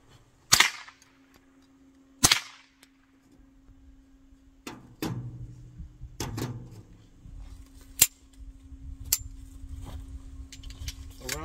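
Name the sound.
M&P 380 Auto pistol shots at long range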